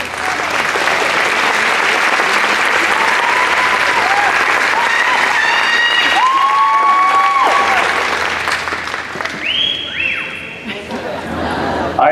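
A conference audience applauds a speaker being welcomed to the stage, steady dense clapping throughout, with a few tonal whistle-like sounds and crowd chatter mixed in before it thins near the end.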